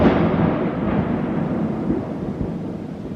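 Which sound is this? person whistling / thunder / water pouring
thunder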